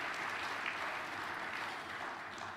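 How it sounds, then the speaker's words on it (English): A round of applause from the audience at a high school football awards evening, steady dense clapping sustained at a moderate distance throughout, with no voices heard. "Yes, give them a round of applause"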